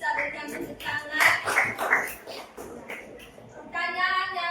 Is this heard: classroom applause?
yes